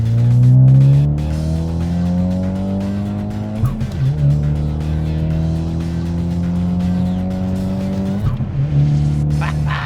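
A 2015 Ford Mustang EcoBoost with an MBRP exhaust pulls hard through the gears, its loud droning engine note rising steadily with two brief dips at the shifts, close up and continuous.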